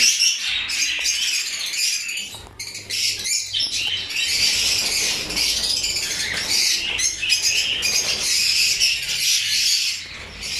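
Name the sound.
caged breeding birds calling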